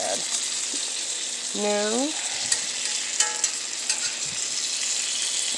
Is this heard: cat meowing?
no